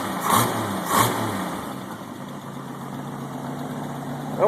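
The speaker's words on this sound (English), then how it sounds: "that thing's got better throttle response than a lot of V8s now" Mustang inline-six fitted with a two-barrel carburetor idles steadily, with two quick throttle blips early on and a rising rev at the very end.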